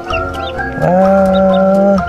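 A duck being coaxed and caught by hand at a farmyard gives loud, close calls, ending in one long drawn-out honking note, with a brief exclamation from a person.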